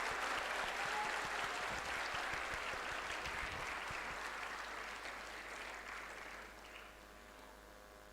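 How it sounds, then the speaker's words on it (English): Students at an ICSI youth festival event applauding, a broad sustained round of clapping from a large hall crowd that gradually thins and fades over several seconds. "अरे अपने लिए तो जोर से ताली बजाओ."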